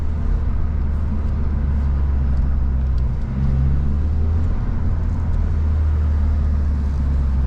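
A Mazda 3 MPS hot hatch with a 2.3-litre 260 hp engine driving on the road, heard as a steady, loud, low engine drone and road rumble that runs unbroken from start to end, with no talking.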